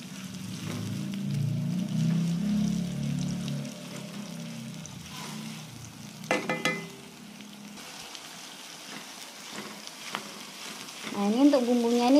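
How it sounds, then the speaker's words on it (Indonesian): Sliced leeks sauté in hot oil in a pan for oxtail soup, a steady, close sizzle with occasional stirring scrapes and a brief clatter of utensils partway through. "Nah, ini kita tumis sampai benar-benar harum ya, atau sampai layu ya ini bawang prenya."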